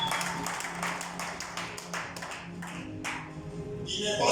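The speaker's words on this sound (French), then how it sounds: "Acclamons encore pour la gloire du Seigneur." A church congregation claps and acclaims the Lord during a Sunday sermon, with a run of fairly close, uneven claps and taps over about four seconds and no speech.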